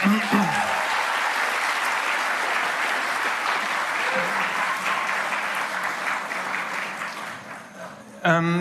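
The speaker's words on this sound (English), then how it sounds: "please, a round of applause for them" A large crowd claps steadily in sustained applause for several seconds, fading slightly before a voice speaks at the end.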